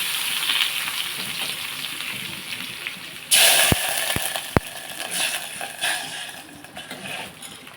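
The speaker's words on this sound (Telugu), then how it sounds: "ఇదిగోండి తాలింపు" Tempering for chana dal tomato charu sizzles sharply in hot oil, a sudden loud hiss bursting in midway with a few metallic clinks, then slowly fading, close and without talk.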